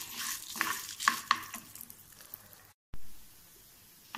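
Urad dal and dried red chillies fry in a pan with soft sizzling and the scrape of stirring. A few sharper clatters come in the first half, then a short pause and quieter frying.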